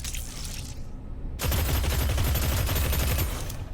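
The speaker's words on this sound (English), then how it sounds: "The really quick firing SMG." Rapid SMG fire in the video game Deadzone: Rogue, a dense, loud stream of shots starting abruptly after a short lull and continuing without pause.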